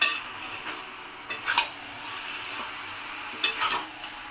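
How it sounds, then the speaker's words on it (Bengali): Chicken pieces and potatoes are stirred in a frying pan under a soft, steady sizzle, with a few quick scraping and clinking strokes of a utensil against the pan. "এভাবে একটু নেড়ে চেড়ে নিতে হবে।"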